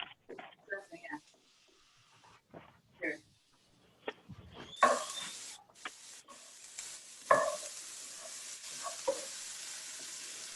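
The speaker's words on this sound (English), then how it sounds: "I heard frying, and so I went to find it" Food sizzles and fries in a pan during a live cooking competition, a hissing crackle starting partway through under scattered clattering and soft voices.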